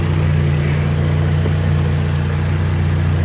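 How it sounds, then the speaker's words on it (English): A Pontiac G8 engine idles steadily in its engine bay, a loud, even, low-pitched hum with a constant mechanical drone and no revving or voices. "while the engine is going"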